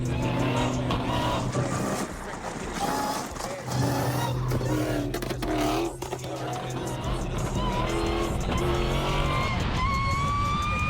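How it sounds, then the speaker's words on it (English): A Dodge Hellcat Redeye accelerates hard in fourth gear at about 80 mph, its loud engine roaring with shifting pitch as the tires lose traction, while a voice talks over it. "It's losing traction in 4th gear."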